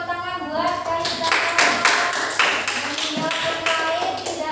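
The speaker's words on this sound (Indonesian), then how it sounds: "Beri tepuk tangan buat Kaisa." A classroom of students claps for a classmate, a dense patter of hand claps running steadily throughout at close range, mixed with children's voices and chatter.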